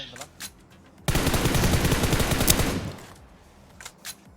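Automatic gunfire in PUBG Mobile, a loud continuous burst lasting about two seconds, with a few scattered single shots before and after it.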